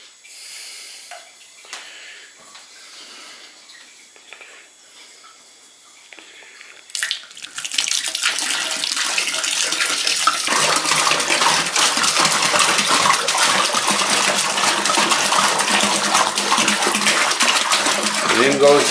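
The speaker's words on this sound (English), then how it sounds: "In goes 5 gallons of water" Five and a half gallons of water pour steadily into a fermenting bucket for Nanking cherry wine, a loud continuous rushing gush beginning partway through after quieter handling sounds and lasting to the end.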